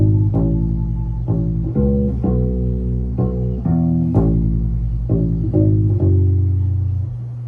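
Electric bass guitar plays the second part of a song in a beginner rock lesson, a steady run of plucked low notes with changing pitches, loud and close, with no talking.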